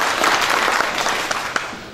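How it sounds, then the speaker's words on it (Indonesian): Applause from a seminar audience in Temanggung, a dense, steady crackle of many hands clapping, fairly loud and continuous for the whole stretch with a few sharper claps standing out near the end. "Tepuk tangan buat Temanggung."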